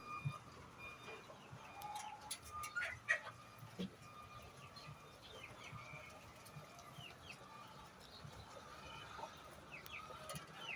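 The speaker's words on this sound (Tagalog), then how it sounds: "Yan po ang ating brown layers na alaga." Free-range brown layer hens cluck faintly and intermittently on a farm, with occasional sharper calls over a quiet outdoor background and brief distant voices.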